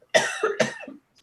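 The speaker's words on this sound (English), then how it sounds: "I have to cough" Two close, harsh coughs in quick succession, loud and brief, followed by near silence.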